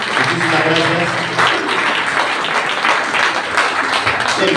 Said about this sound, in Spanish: un fuerte aplauso para Alberto.